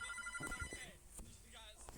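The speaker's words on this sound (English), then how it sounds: "Oh, the phone. The phone is ringing." A telephone rings inside a video game, its repeated electronic trill rising and falling over about two seconds, partly overlapped by a person talking over the game sound.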